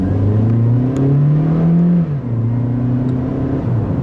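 A 2013 Honda Civic engine revving up and settling back, a smooth rising and falling whir with gear-like pitch shifts, loud and close, no voices.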